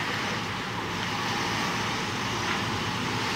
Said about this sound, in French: Beaucoup de circulation à Tizi Ouzou.